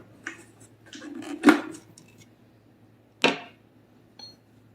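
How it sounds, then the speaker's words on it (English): Spatula scraping the sides of a mixer bowl while making a strawberry gelatin cake: a few short, sharp scrapes and clinks, two louder strokes among softer ones, close up and without speech. "I'll scrape the sides of the mixer."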